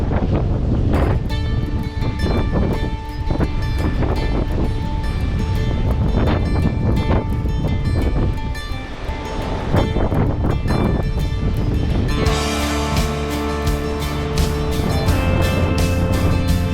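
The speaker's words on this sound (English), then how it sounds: "the wind was manageable and mostly just held us steady as we took the swell on the beam" Strong wind roars across the microphone on a sailboat rolling in big seas with the swell on the beam. A constant loud rush of air blends with the wash of waves and no voices.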